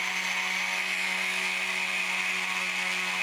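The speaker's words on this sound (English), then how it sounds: "I haven't used this Dremel too often." A Dremel rotary tool runs steadily with a constant high whine and buzzing hum, close and unbroken, during prep work on a rhino model.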